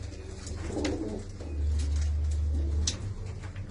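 Domestic pigeons cooing softly in a home loft, low throaty coos rising and falling in a couple of phrases, close by with faint background noise.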